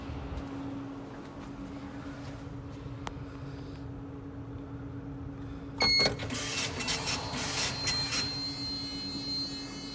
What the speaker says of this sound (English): That's the printer recorder.